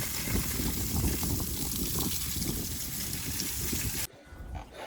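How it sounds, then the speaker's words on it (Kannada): Water runs continuously while garden plants are watered, a steady rushing splash that cuts off abruptly near the end, leaving quieter background. "ಇವಾಗ ಗಾರ್ಡನ್ಗೆ ನೀರು ಹಾಕ್ತಾಯಿದ್ದೀನಿ."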